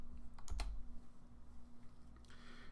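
Typing on a computer keyboard: a short burst of a few faint, quick key clicks followed by a softer click near the end, over a steady low background hum.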